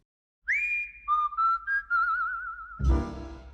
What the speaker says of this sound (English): a master whistler, even recorded a what do you know it whistling version of it in 1958